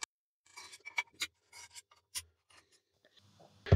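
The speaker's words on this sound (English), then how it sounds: "we can remove the scope rail from the top of the rifle by loosening the 3 securing screws" Scraping and clicking from a 3mm Allen key working the scope rail screws on a Daystate Pulsar air rifle, with short metallic rasps and ticks spaced irregularly, close and quiet, ending in a louder clunk.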